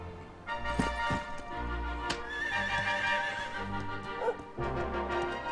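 A horse in the video game Dragon Quest XI S gives a loud, drawn-out whinny while hooves clop in an uneven rhythm, with a second, shorter neigh near the end.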